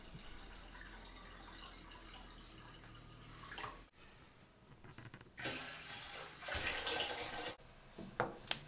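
Water runs and splashes into metal jugs while brewing a California Common beer, first as a low steady trickle, then after a pause as louder rushing pours in bursts, ending with a few clanks.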